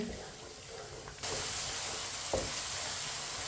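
Potatoes frying in a pan while stirred with a spoon, a steady close sizzle that grows louder partway through, with an occasional light scrape and no talking.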